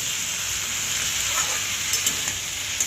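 Boiled jackfruit, potato and drumstick pieces frying in a pan: a continuous close, hissing sizzle with faint crackles and a few small pops, no talk over it.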